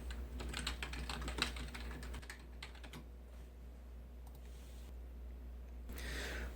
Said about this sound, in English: type in my credentials